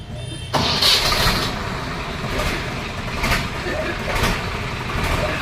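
A tractor engine cranks and fires into a rough, steady running rumble after a brief quiet start, loud and close, with people talking over it.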